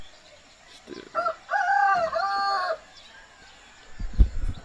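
A rooster crows near rice fields just after sunrise, one long clear call with a rising and falling contour, followed by a short low thump, with no talking over it.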